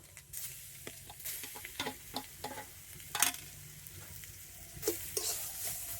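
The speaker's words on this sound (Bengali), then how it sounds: "তো তেলের উপর দিয়ে দেব 1/2 চামচ কালো জিরে, আর দিয়ে দেব বেটে রাখা ডালটা।" Nigella seeds and ground lentil paste hit hot oil in a wok, crackling and sizzling up close while a utensil stirs with short scraping strokes, irregular spatters rising and falling over a soft background hiss, with no voices.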